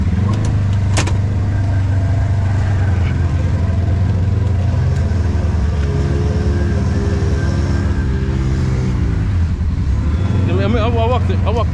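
An off-road vehicle engine drones loudly and steadily while driving, its pitch shifting as it moves, with people talking over it near the end.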